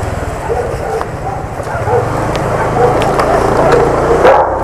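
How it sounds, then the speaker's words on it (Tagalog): Several large dogs bark and yip in the street around a delivery rider, loud, overlapping barks and whimpers over a low motorcycle engine rumble, with someone talking at times. "Hala! Ang pang ilang daming aso."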